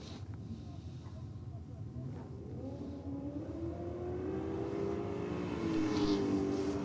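A modified car with a crisp engine accelerates down a drag strip, its steady engine drone rising in pitch and loudness as it pulls away, with a voice speaking over the noise.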